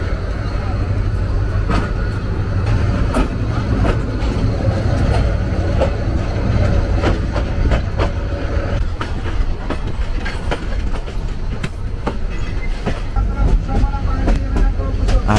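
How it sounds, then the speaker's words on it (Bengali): Kishoreganj Express passenger train standing at Sarashwar railway station, its engine and carriages giving off a steady, loud rumble with scattered clanks and faint station voices underneath throughout. "কিশোরগঞ্জ এক্সপ্রেস এই মুহূর্তে এসে দাঁড়িয়েছে সারাশ্বর রেলওয়ে স্টেশন"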